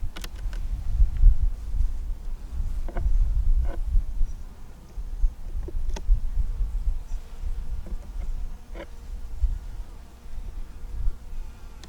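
Honeybees buzz around an open hive as frames are inspected, a low humming drone broken by occasional light knocks and clicks, close by and fairly soft.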